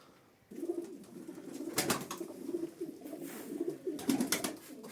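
Racing pigeons kept by a Turkish pigeon fancier coo softly and repeatedly at close range, with a few brief flutters or rustles breaking in twice.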